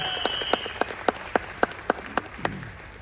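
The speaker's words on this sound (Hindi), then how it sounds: "एक बार जोरदार तालियां हो जाए वेस्टीज के लिए" Sparse, sharp audience claps ring out at a steady beat, about one every quarter second, loud and close, before fading at the end.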